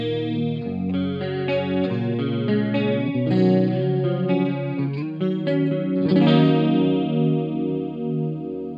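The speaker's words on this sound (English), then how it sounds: "Next up is the chorus." An electric guitar runs through the chorus effect of a Gokko Audio AXE MX300 multi-effects unit, with chords ringing out in a shimmering, slightly wavering tone, loud and continuous with no talking.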